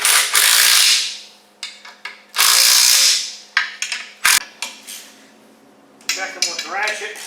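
Impact driver tightening bolts on a Cummins crew cab truck, firing in several loud buzzing bursts of hammering between clanks of tools and metal, close by, with someone talking near the end.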